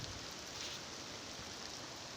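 Steady rain falls over village fields, a soft, even hiss of drops that holds without break and sits fairly faint and distant, with no voices.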